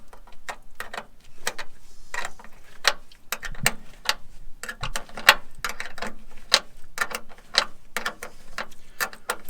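Rapid metallic ratcheting clicks from tightening a bolt on a Lucas Girling brake caliper of a Renault 4, crisp and close, repeating in quick uneven bursts with no talk.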